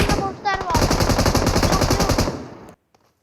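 Automatic gunfire in PUBG Mobile: a loud, dense, rapid burst of shots running for about two and a half seconds before cutting off abruptly into near silence.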